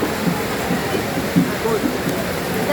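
Rain falls on the Chittagong University campus as a loud, steady, continuous hiss, with a voice faintly underneath.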